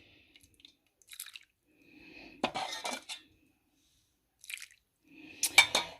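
Sliced onions dropped into a soup pot, a few short crackly clinks and splashes in separate bursts with quiet gaps between.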